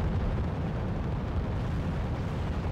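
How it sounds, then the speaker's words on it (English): Missile striking a vehicle in Wargame, a real-time strategy game: a loud sustained rumbling blast that rolls on heavily throughout with no talking. "Got him with a missile there."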